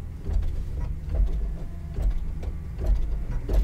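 A Kimberbell embroidery machine stitching a Two Scoops pillow, a low rhythmic mechanical whir and thump repeating at an even pace, close and steady with no talking.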